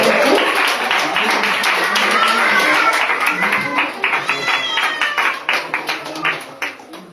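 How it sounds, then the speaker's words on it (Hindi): A church congregation claps loudly to welcome the pastor. The dense applause starts full, then thins into scattered, separate claps as it fades out. "जोरदार तालियां बजाएं पास्टर को स्वागत करते हैं।"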